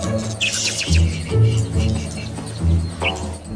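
Small cartoon birds chirp in short high bursts over a low animated-film background of music and voices, the tweets brief and separated.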